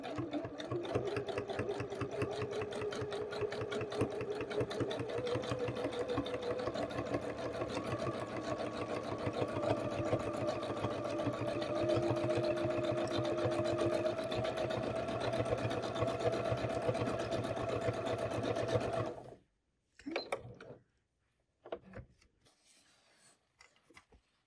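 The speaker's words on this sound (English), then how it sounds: "Okay, so let's sew a little bit." A Janome sewing machine free motion stitching, a steady fast mechanical hum and needle chatter running close and continuously for about nineteen seconds before stopping, followed by a few faint short clicks.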